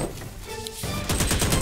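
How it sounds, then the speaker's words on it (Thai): Bursts of rapid gunfire in a Chinese sniper action film dubbed into Thai, with scattered shots early on and then a dense, loud volley of rapid-fire shots, with no speech. "ยิงคุ้มกัน"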